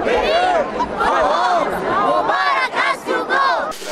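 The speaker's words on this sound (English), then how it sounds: "Countless thousands thronging the streets, streaming across the bridges, and filling Liberation Square" A huge protest crowd in Tahrir Square, Cairo, roars and chants in a loud, continuous wall of voices, with rising and falling shouts swelling throughout.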